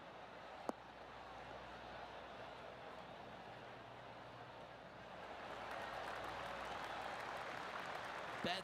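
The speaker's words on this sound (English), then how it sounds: "That deserves a golf clap." Golf crowd applause in PGA 2K21, a broad steady patter of clapping that swells a little louder toward the end, with no talk.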